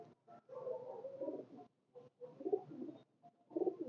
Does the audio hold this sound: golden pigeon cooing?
yes